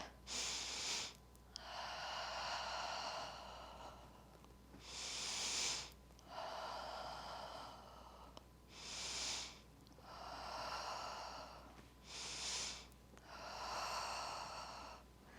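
Slow, audible breaths during a yoga exercise, steady inhales and exhales repeating about every two to three seconds, close and soft against a low background hum.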